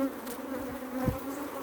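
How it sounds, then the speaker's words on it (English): Honey bees buzzing around a brood frame, a dense steady hum from many insects close by, with one louder bee passing near for a moment. "See all these bees, they're so heavy, they're falling."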